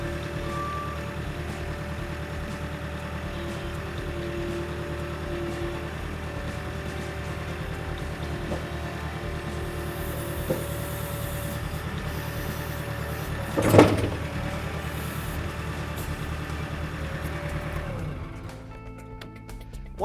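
A JCB new generation skid steer idles with a steady low engine drone and hydraulic whine, then a sharp metallic clunk as it pulls away from its attachment, the engine note dropping near the end.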